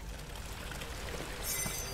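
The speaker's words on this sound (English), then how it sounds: "Water, water, water." Water pouring steadily in Amnesia: The Dark Descent, a continuous rushing flow at moderate loudness with no talking.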